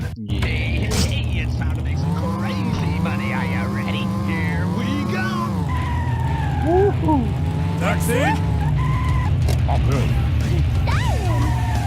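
Crazy Taxi gameplay with a car engine droning and shifting pitch, tyre skids, siren-like whines and crash hits, all loud and continuous under game music and effects.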